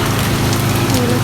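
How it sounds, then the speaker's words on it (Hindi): Heavy rain pours down outside a gallery, a dense, loud, unbroken hiss and patter filling the whole moment. "बहुत तेज़ बारिश हो रही है"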